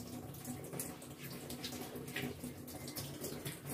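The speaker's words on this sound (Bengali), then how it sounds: "আর সবজি আমি হাত দিয়েই ধুয়ে দিই" Vegetables being washed by hand under running tap water, a steady close hiss and splash of flowing water with soft handling sounds throughout, no talk.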